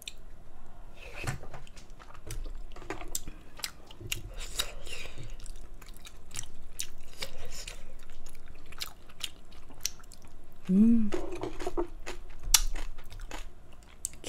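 Chewy potato ongsimi dumplings being chewed up close, soft sticky squishing and biting sounds repeating through the stretch, with a brief louder smack near the end and a faint voice in the background.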